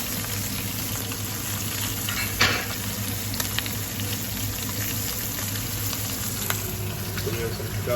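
Garlic and ginger frying with seasoned onion in a pan for lamb tajine, a dense continuous sizzle with an occasional clink or scrape of a utensil, close up and steady throughout, no voices.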